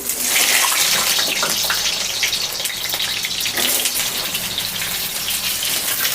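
Pumpkin pieces fry in a pan of hot oil with a loud, continuous, close sizzle and crackle that barely changes.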